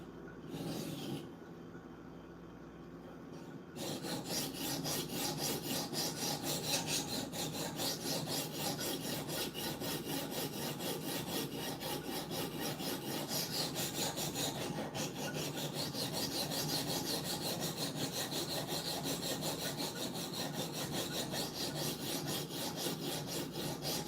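An S90V steel knife blade worked back and forth on a sharpener, giving a steady, close rasping scrape that repeats in a continuous rhythm after a short quieter start.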